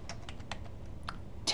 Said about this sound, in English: You can actually just start typing